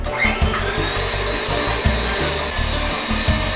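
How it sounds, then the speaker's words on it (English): A stand mixer with a whisk attachment whips egg whites in a loud, steady motor whine with a rhythmic low thumping of the whisk, close and continuous, no talking. "I'm going to start whipping up the egg whites until soft peaks form"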